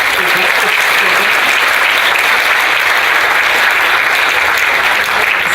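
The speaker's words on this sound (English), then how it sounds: "can we give these guys a big clap?" Sustained audience applause fills a hall during a church talk, a dense steady wash of many hands clapping at an even loudness from start to end.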